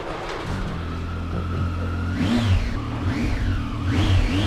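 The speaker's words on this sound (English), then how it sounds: "If you can hear that engine, you already know what it is." A motorcycle engine idles with a deep throb, then revs up in three rising and falling bursts, loud and close.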